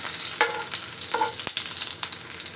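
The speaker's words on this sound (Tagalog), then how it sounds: "Mainit na muli ang ating oil kaya una nating igisa ay onion." Onion sautéing in hot oil for spicy ginataang bangus, a steady close sizzle and crackle with occasional stirring scrapes and clinks from a utensil, no voices.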